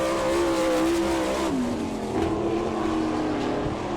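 A sprint car on a qualifying lap at Attica, Ohio, its engine screaming at high revs with a slightly wavering pitch as it circles the dirt oval, loud and steady throughout.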